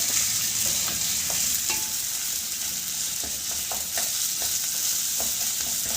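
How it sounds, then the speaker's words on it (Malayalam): Mashed potato being stirred into fried chili, ginger and cumin in a pan, with a steady sizzle under repeated scraping and clicking strokes of the spoon, close and moderately quiet, no talking. "ഈ മാഷ് ചെയ്ത ഉരുളക്കിഴങ്ങ് ഉരുളായി വെച്ചു കേട്ടോ ഇനി അതിൽ നല്ലോണം മിക്സ് ചെയ്യണം"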